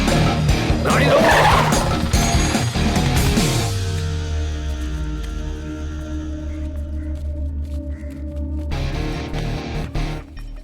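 A car skids hard to a stop with a loud tyre squeal and screech in the opening seconds, then settles into a low idling engine rumble with some scraping movement.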